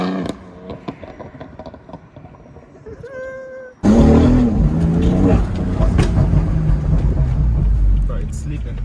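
BMW M4 fitted with downpipes launching hard, the engine bursting from a quieter idle into a loud, sustained full-throttle roar with rising tone, people talking around it.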